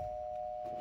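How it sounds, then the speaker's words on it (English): A single doorbell chime holds one steady electronic tone for under a second, heard indoors against a quiet background. "Doorbell rang"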